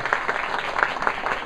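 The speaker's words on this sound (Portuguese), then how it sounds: "Palmas para Marcelo Amaral" A small audience claps in welcome for a guest author at a book club gathering, a brief patch of steady, moderately close applause with no talk over it.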